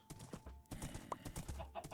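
A horse in the Minecraft video game walks with light, quick clip-clop hoofbeats, close and moderately loud over a short stretch.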